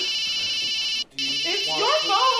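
A mobile phone ringtone plays as a loud, steady electronic tone with a brief gap, continuing while a voice speaks over it in an indoor scene.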